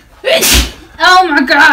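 A sharp, close sneeze bursts out, followed at once by a startled spoken exclamation in a loud indoor room.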